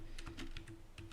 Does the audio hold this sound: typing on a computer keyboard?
yes